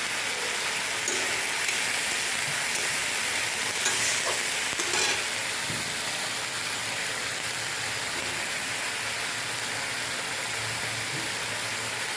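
Onions and ginger-garlic paste fry in a pan for a fish curry, giving a steady, close, loud sizzle that crackles without a break and has no talking over it.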